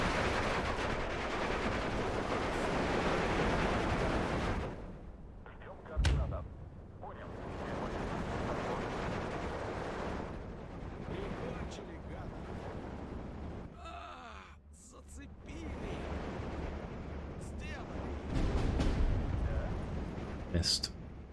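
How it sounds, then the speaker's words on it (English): Mortar and artillery fire in the WWII strategy game Steel Division 2, a continuous rumbling barrage of booms and gunfire bursts that swell and fade, with someone talking over the battle. "I'm hoping that mortar fire lands well."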